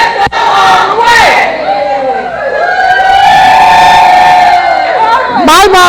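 A crowd at a Texas campaign event for a Court of Criminal Appeals candidate shouting a cheer together, loud massed voices rising and falling over several seconds, with a sharper burst of shouting at the end.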